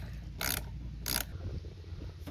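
A ratchet with a 10 mm socket loosening the negative battery cable on a 2019 Ram 1500, two short crisp bursts of clicking, close and fairly quiet over a low background hum.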